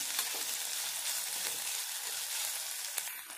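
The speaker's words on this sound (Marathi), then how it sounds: "इथे टाकून घ्यायचे आपल्याला वाटाणे आणि स्लाइस केलेली शिमला मिरची. आता हे आपण इथे छानपैकी शिजून घेणार आहोत." Green peas and sliced capsicum cooking in a pan with a steady, soft sizzle and faint stirring scrapes, close but quiet, one small clink near the end.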